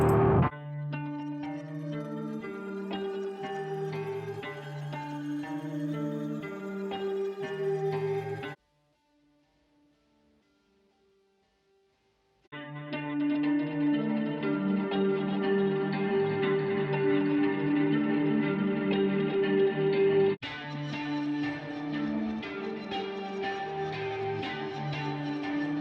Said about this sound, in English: Reverb and delay.